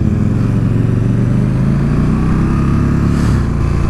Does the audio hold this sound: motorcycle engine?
yes